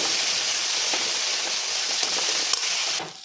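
Spice paste with tomato and onion frying in a pan, a steady broadband sizzle and hiss holding for about three seconds before suddenly dropping away, with a few faint clicks on top.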